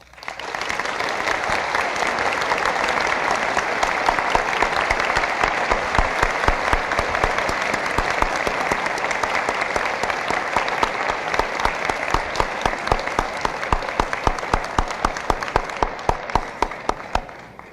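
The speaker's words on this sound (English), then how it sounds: "I'm sure that you know from the applause you've just heard how much it was appreciated." Sustained audience applause fills the hall after the FCC Chairman's speech, a dense, loud wash of clapping that runs unbroken for over fifteen seconds, with individual claps growing more distinct as it thins toward the end.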